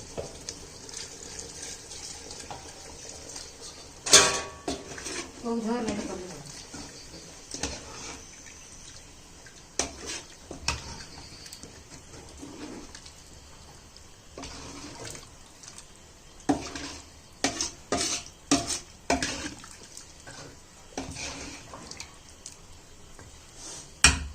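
Water is poured into chicken gravy in a cooking pot, heard as splashing and trickling bursts with clinks and pauses between, close and fairly quiet.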